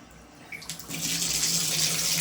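Water gushes from a faucet into a hotel bathtub, starting with a few faint clicks before the flow opens into a steady, close hiss that continues without any voices.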